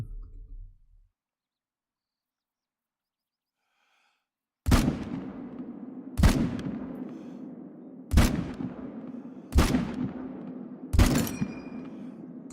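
Five loud, sharp rifle shots ring out about every one and a half seconds while hunting in Call of the Wild, each with a short echoing tail, after a long near-silent pause.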